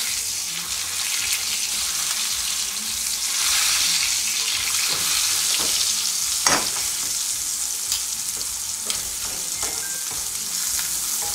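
A piece of beef sears in a hot pan over high heat, giving a steady loud sizzle and crackle with occasional sharper spits, heard alone without talk.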